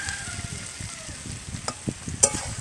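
Pumpkin and prawns are stirred in a frying pan, with a soft sizzle underneath and irregular scraping taps of the spoon, plus a sharper clink near the end.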